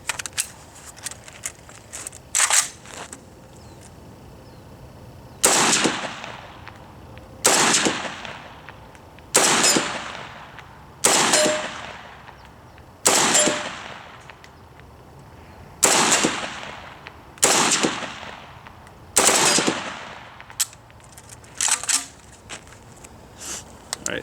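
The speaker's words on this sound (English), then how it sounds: "And let's go ahead and shoot some more" An RPK-74 light machine gun fed from a Bulgarian circle-21 magazine fires on an outdoor range: about ten loud, sharp bursts of automatic fire separated by short pauses, with quieter handling noise between them.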